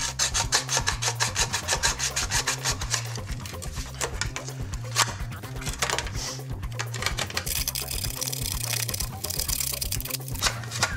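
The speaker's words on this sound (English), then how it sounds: "I'm gonna use a hacksaw, take the scope off the top." A hacksaw cuts the scope off the top of a toy gun with quick, steady back-and-forth rasping strokes, close and continuous, with no talking.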